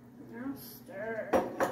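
A utensil scrapes and clinks against a pan while cooking chicken is stirred, two sharp metallic knocks standing out near the end, with a voice speaking just before them.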